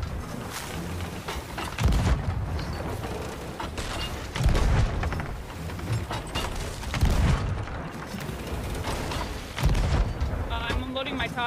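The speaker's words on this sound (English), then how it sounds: "I'm unloading my cannons in the top one" Ship cannons boom repeatedly in a Sea of Thieves naval battle, several heavy blasts spaced a couple of seconds apart over a constant rumble of wind and sea.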